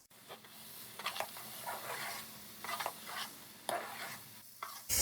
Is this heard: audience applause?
no